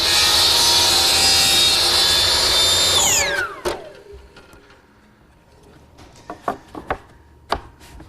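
A power saw trims the long point of a walnut miter joint, whining loudly for about three seconds before spinning down, followed by a few sharp knocks and clicks of handling wood.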